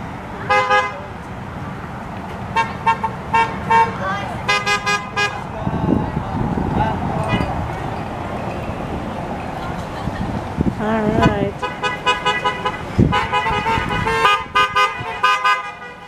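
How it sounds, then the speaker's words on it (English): A small car parade rolls past at an outdoor graduation celebration, with repeated short and long car horn toots from several vehicles, some near and loud, over engine rumble and background crowd noise. "And here comes a little car parade. I can hear them."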